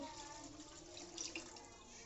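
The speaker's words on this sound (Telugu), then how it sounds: "చింతపండు రసాన్ని పోసుకోవాలి" A thin stream of tamarind juice pours steadily into a cooking vessel, close by and fairly quiet, with a faint splash partway through.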